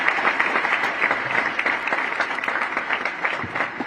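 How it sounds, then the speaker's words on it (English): A crowd at a tenth-anniversary celebration event claps steadily in a hall, a dense, even wash of applause with scattered sharper claps standing out, heard alone with no talk over it. "Can we have a louder round of applause for Sushant Tharapin?"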